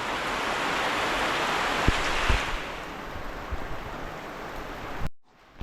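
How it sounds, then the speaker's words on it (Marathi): Heavy monsoon rain falls in Konkan as a dense, even hiss with a few soft knocks, then cuts off abruptly near the end. "खूप मुसळधार पाऊस पडतोय"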